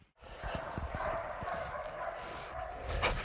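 A dog barks repeatedly in short bursts at a moderate distance at a wild pig it has bailed during a pig hunt in Taranaki, New Zealand, over outdoor background noise, with a faint whimper-like sound toward the end.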